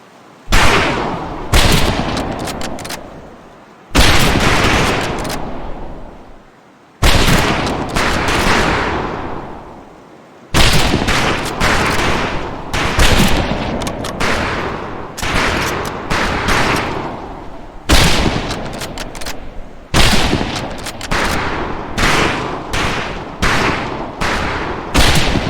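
Rifle gunfire at a firing range in Medal of Honor: Pacific Assault: loud, close volleys of shots in repeated bursts separated by brief pauses, with no talking.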